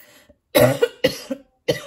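Three harsh coughs spaced apart, close and loud, with quiet gaps between them.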